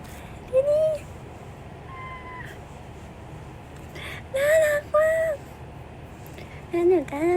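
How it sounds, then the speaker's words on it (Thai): A cat meows several times in short, high cries, with a few more quick meows near the end, while people talk quietly in the background. "ซากุชิแมว"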